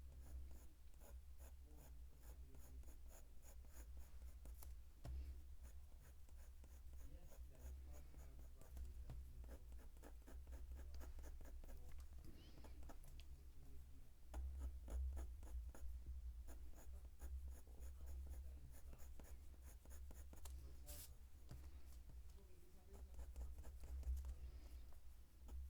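Coloured pencil strokes on paper, layering short marks to render realistic dog fur, heard close up as a steady, rapid scratching patter that runs without pause for the whole stretch, over a low constant background hum.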